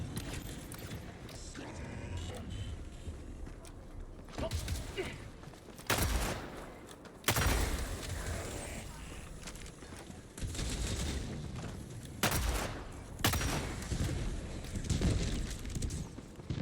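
Gunfire in the shooter Helldivers 2, sustained bursts of automatic weapons with sharp loud shots punctuating a dense rumbling battle din over many seconds, with faint talk beneath.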